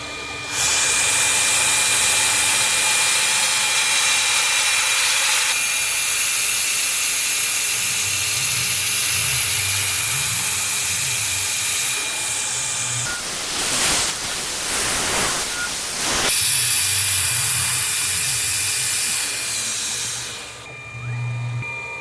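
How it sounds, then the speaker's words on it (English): A machine tool runs loudly while holes are chamfered in a machined aluminum tube adapter, producing a constant high whine and broadband hiss with a rough, noisier cutting burst partway through. "Just gonna chamfer these holes."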